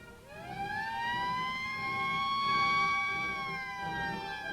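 Alert siren sounding during a simulated alarm at the Panama Canal, one long wailing tone that sweeps up and then holds steady at moderate distance over a low background rumble.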